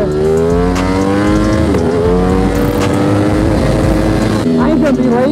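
A Ducati V4S motorcycle, tuned to 190 wheel horsepower, roars loud and steady while being ridden, its rising and falling harmonic engine tone shifting with throttle, with a voice speaking briefly over it.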